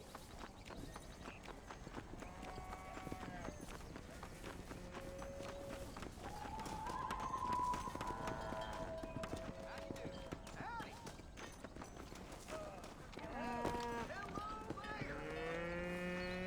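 Rapid hoofbeats of a galloping horse in Red Dead Redemption, with moos and other animal calls layered over music and ambient sound.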